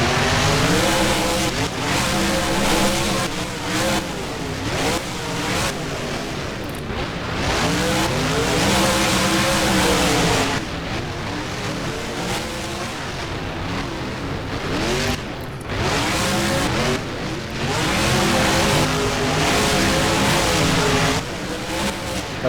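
Monster trucks race in BeamNG at a virtual MetLife Stadium, with loud, continuous engine roars rising and falling as they rev and accelerate through ramps and turns, and no voices.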